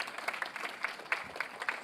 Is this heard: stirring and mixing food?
no